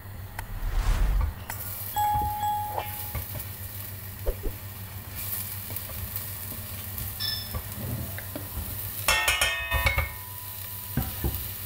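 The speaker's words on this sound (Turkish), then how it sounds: "Tereyağım erirken ben de kuru soğanlarımı tencereme ekleyeceğim." A steady soft sizzle of dried onions frying in melted butter in a pot, with occasional stirring clinks and scrapes close by, no talking.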